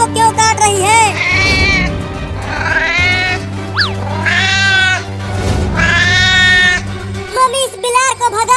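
Cartoon cat meowing loudly in repeated drawn-out, wailing cries, close and prominent over a steady musical background, with brief gaps between calls.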